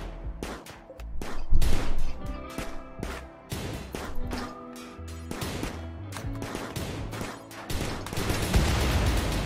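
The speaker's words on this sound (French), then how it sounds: "On pourra détruire la tourelle. Au pistolet." Pistol shots aimed at a turret in RimWorld, a series of sharp punchy bangs and impacts at irregular intervals, fairly loud and close, with little talk.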